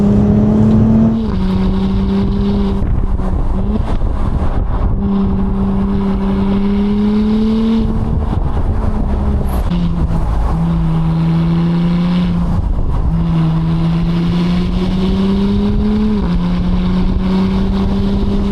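An Audi SQ5 with aftermarket modifications drones and rises steadily as it drives fast, pitch climbing and dropping with gear changes, loud and continuous throughout.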